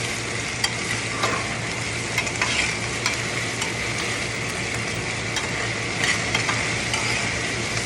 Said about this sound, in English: I'm allow this to saute in the oil guys